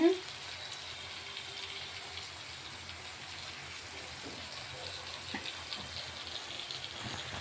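Water is poured into a pot of Godavari-style fish curry, giving a steady wash of splashing and sizzling noise that holds through the whole stretch.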